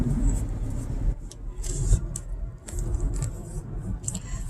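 A car cruising along a road in Virginia, a low rumbling engine and tire drone up close inside the cabin, with faint clicks and small rattles over it.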